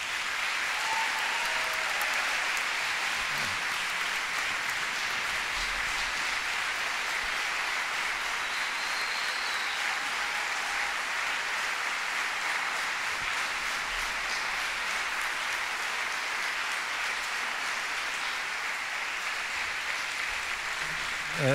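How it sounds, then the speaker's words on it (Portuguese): A concert audience in the Gulbenkian Foundation's Grand Auditorium applauds the Gera Jazz orchestra at its 10th anniversary concert, a dense, sustained roar of clapping that holds steady and loud for over twenty seconds. "uma salva de palmas para eles"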